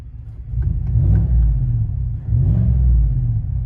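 A 2019 GMC Sierra 1500 AT4 with a 6.2L V8 and Flowmaster Super 10 dual exhaust, heard from inside the cab: a deep, loud rumbling growl rising in two revs with a short dip between.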